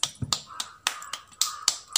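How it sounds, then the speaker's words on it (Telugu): A small group of children clap their hands in uneven, scattered claps, about a dozen sharp slaps over two seconds, close and fairly faint with no talking. "క్లాప్స్."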